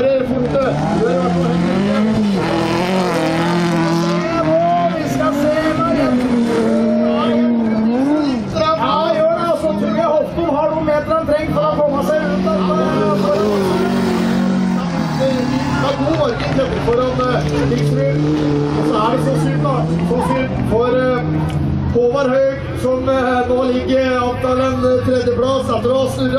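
Cars racing hard in a rallycross club race, engines screaming and revving continuously with passing cars and tire noise, under constant Norwegian commentary and crowd chatter.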